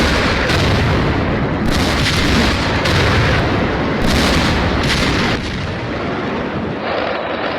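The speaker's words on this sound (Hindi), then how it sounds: "हरदा की अवैध पटाखा फैक्ट्री में दिल दहलाकर रख देने वाले विस्फोट का यह वीडियो" A rapid series of heavy booms and crackling blasts from an illegal firecracker factory explosion in Harda, India, rumbles on loudly, bursts overlapping in a chaotic, continuous barrage.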